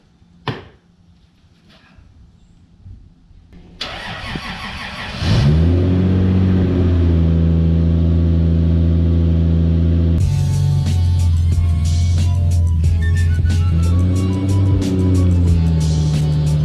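A car in a barn cranks and fires up, then its engine idles and revs loudly with rising and falling pitch as it is driven out, a steady close rumble with a faint click before the start.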